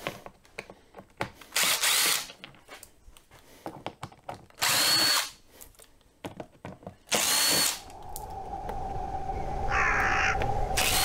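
A power drill backs out four Phillips screws, one in each corner of a back cover near a carburetor assembly. It whirs in three short, loud bursts separated by quieter handling, then a low steady hum follows.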